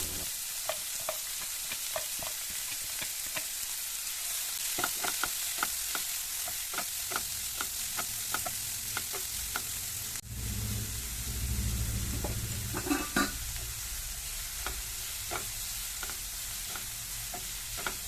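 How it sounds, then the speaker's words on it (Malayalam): Snack masala with salt sautés in a pan, giving a steady sizzle punctuated by frequent rhythmic scrapes of a spatula stirring throughout, with a brief rumbling shift partway through. "ആവശ്യത്തിനുള്ള ഉപ്പും ചേർത്ത് കൊടുത്തിട്ട് വാട്ടിയെടുക്കാം"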